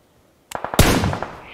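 Gunfire in PUBG Mobile rings out as a rapid burst of several sharp shots followed by a heavier blast and a ringing, decaying tail, loud and close.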